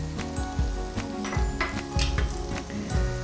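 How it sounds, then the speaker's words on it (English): Onions hit a hot frying pan with chicken already browned in it and sizzle steadily up close, with scraping stirs over the crackle and no talking. "And now we're just gonna add our onions."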